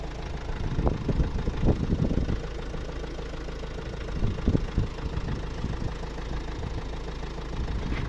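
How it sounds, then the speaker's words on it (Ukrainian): A diesel car engine idles on a test bench hooked to an engine tester, giving a steady low rumble with faint knocking and a few louder thumps and clatters, close and moderately loud, with no speech. "Це дизельний мотор."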